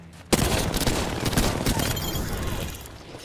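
Loud burst of gunfire in Apex Legends, starting abruptly with a sharp shot and continuing as a dense rattling volley that slowly fades.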